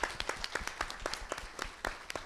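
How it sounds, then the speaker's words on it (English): A small audience at a nonprofit leadership event gives a brief, sparse round of applause, with individual claps distinct and irregular and fairly close, rather than a dense ovation. "How about a round of applause for the nonprofit leaders that are not sitting here, that are sitting out there?"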